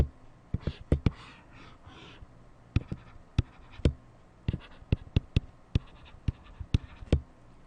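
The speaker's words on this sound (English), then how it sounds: "I'm going to start by drawing a picture." Pen or pencil drawing on paper, a sketch for a rectangle area problem, heard as sharp scattered taps and short scratchy strokes, fairly close and alone against a quiet room.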